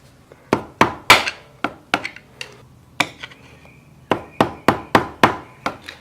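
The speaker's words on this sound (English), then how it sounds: "Rubber mallet." A rubber mallet taps a motorcycle chain sprocket during a chain and sprocket install, giving about a dozen sharp, close knocks in two uneven clusters, some struck in quick succession, with a short pause between the groups.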